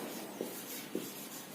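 A pen or chalk scratches out a handwritten sentence in a classroom, two brief faint strokes against a steady background hiss.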